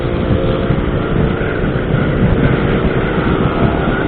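Motorcycles race along a bypass road, their engines a loud, continuous, close roar filling the whole stretch without a break.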